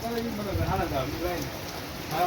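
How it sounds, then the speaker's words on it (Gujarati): Steady rain falls on a surface during an evening downpour, a soft, even patter throughout with a voice speaking over it. "વરસાદ ચાલુ ને ચાલુ."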